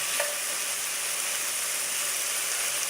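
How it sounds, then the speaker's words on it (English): Onions sautéing in a pan ahead of cabbage and callaloo give a steady, close sizzle with a faint soft stir near the start, constant and even throughout with no talking. "So we're going to let that saute."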